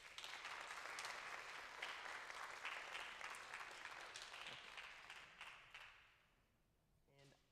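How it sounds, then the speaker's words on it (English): Audience applause at a high school awards ceremony in Mitchell, South Dakota, a dense steady clapping that fills the room for about six seconds before thinning and fading out, with a few scattered claps at the end. "so give him a round of applause"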